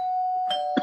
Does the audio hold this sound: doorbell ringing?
yes